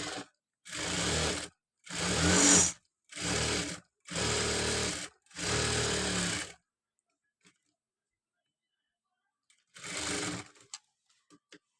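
A sewing machine stitching a designer sleeve runs in five quick, loud bursts of rapid needle chatter, falls silent apart from faint clicks, then makes one more short run near the end.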